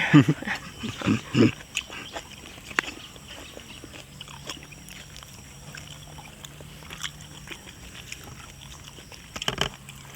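A dog howls and yelps in a rural outdoor setting, with a few loud cries in the first seconds and another burst near the end, separated by quieter stretches of low background noise.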